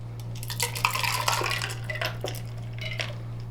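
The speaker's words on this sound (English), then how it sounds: "Pour this bad boy into here." Margarita poured from a cocktail shaker into a glass over ice, with a steady liquid splash and clinking ice through most of the span, close and moderately loud.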